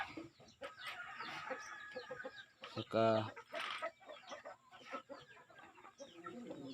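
Many chickens cluck and chatter nearby in a busy jumble, with one louder squawk rising briefly above the flock.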